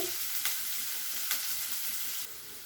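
Onions fry in a pan with a continuous soft sizzle at moderate distance, two sharp clicks of stirring, and a slight drop in level near the end.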